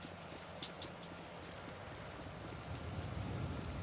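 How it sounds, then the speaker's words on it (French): Rain falls in a video game as a steady, soft hiss of drops, faint and even throughout, with a few light taps and no talking. "Ah, il pleut."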